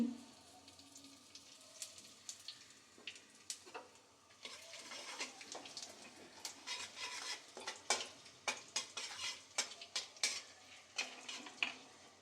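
Whole cumin, halved dried red chillies and asafoetida fry in hot oil, with a soft continuous sizzle under repeated sharp scrapes and taps of a spoon stirring the pan, faint and close with no talking.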